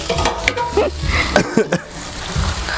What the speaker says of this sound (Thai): ผัดป็นมันหอมๆก่อนครับ